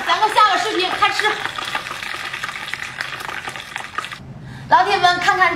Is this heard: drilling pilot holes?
no